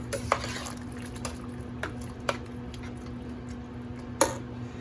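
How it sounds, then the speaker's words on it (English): A spoon stirs butter and flour into hot turkey wild rice soup in a pot, with soft continuous scraping and a few sharp clinks of utensil against the pot, alongside a steady background hum. "So the butter and flour is in this mixture, and I'm stirring it, working it into it"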